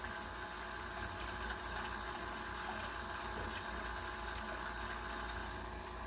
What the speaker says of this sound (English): So you gotta get the pump to start going and flushing